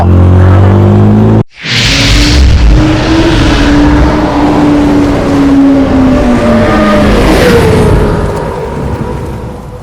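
A rider's motor vehicle in a park revs loud and close after a brief cutout, its engine pitch climbing and slowly easing over several seconds.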